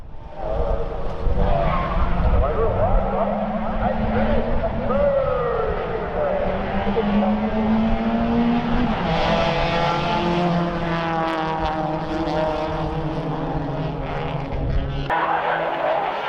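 Hyundai Excel race cars in an 80-minute enduro at Baskerville: engines roar loudly and without a break, with rising and falling pitch as cars pass and brief tyre skids.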